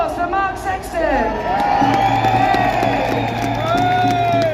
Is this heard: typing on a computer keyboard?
no